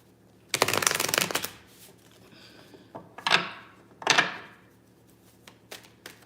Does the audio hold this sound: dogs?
no